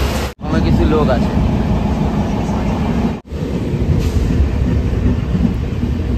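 A local train runs at speed toward the home station of Payradanga, a loud constant rumble with rattling from the carriages and two sudden brief dropouts, heard from on board.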